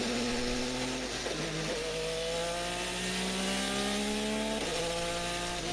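IndyCar race cars at Iowa Speedway circulate behind the safety car, their engines droning loud and steady with rising and falling pitch as cars pass in a continuous stream, no voices over the roar.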